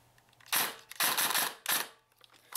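An electric Elite Force M4 airsoft rifle fires in three short bursts, each a sharp, rapid mechanical rattle lasting under half a second, close and loud over quiet pauses.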